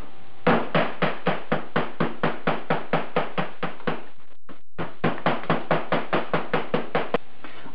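Sheet metal from the rear passenger floor of a 1976 Mazda RX-5 Cosmo being hammered back into shape, a steady run of evenly spaced loud metallic blows, a brief pause, then another regular series, close up with no voices.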